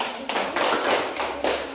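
A school class claps hands together, a short burst of loud, close applause with a few pulsing swells over under two seconds.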